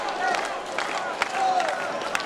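A wrestling crowd cheers and claps during a CCW CHAOS match, with scattered sharp claps over a loud roar while a commentator talks over it.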